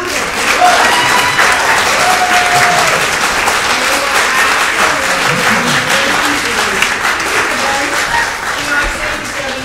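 Theatre audience applause for a cast at a community stage production fills the room, a loud, continuous patter of many hands clapping throughout, with brief voice fragments faintly underneath.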